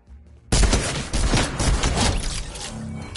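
Video-game gunfire erupts suddenly after a quiet moment, turning into a loud, rapid burst of dense overlapping shots that keeps firing for a few seconds without pause.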